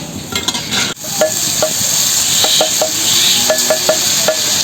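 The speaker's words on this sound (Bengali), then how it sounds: "এদিকে সমস্ত বোঁদেগুলো দেখো ভেজে নিয়েছি" Boondi batter drops frying in hot oil for a sweet-shop style festival treat, a steady close sizzle with a run of light metallic clinks and taps from a ladle or slotted spoon, no voices.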